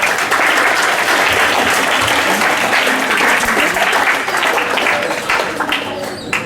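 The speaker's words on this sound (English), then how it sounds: "A round of applause for this gentleman here." A workshop audience breaks into loud, sustained applause, a thick continuous roar of many people clapping close by that eases slightly toward the end.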